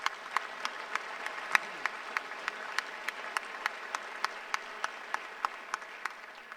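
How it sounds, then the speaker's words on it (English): Audience members at a medical school white coat ceremony clap in an even, rhythmic beat, about three crisp claps a second, fairly thin and steady with no voices over it. "I think that deserves a round of applause"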